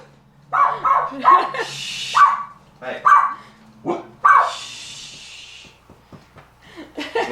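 Dogs bark close by in a series of loud, sharp barks, some quick doubles and some single, with whimpering and rustling in between and a brief spoken word.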